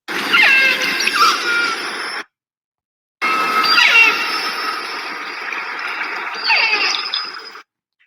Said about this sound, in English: Little higher pitch, little tintier as these calves are learning their calls.